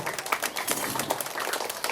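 Audience clapping at a primary school annual day in Vedaranyam, a dense, steady patter of many hands filling the whole moment at moderate loudness.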